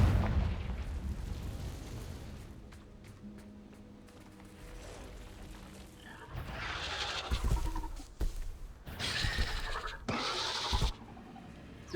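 Fiery spell explosions in the Hogwarts Legacy video game, a run of loud booming blasts and crackling bursts in the second half after a quieter rumbling stretch, no talking over them.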